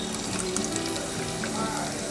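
Chopped onions of two sizes dropping into hot oil for chili paneer, giving a steady close sizzle and crackle that continues evenly, with faint kitchen background.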